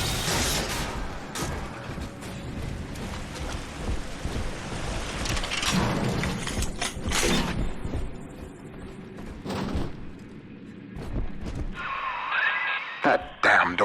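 A malfunctioning door mechanism in BioShock 2's Minerva's Den: grinding, creaking mechanical noise with sliding and groaning strains that swell and fade across the stretch, plus a higher hissing burst near the end, loud and close.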